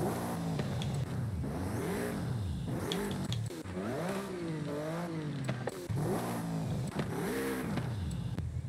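Repeated engine revving from a car in Forza Horizon 5, a rear-drive car converted to all-wheel drive with a swapped engine, rising and falling in several loud sweeps alone with no talk.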